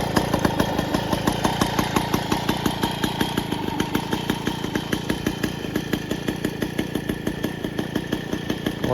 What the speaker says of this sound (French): Le moteur il tourne rond.